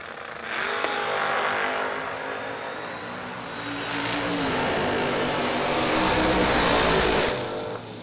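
A Camaro race car launches at a drag race, its engine roaring up loud and near, then a second surge of engine noise builds and fades out toward the end.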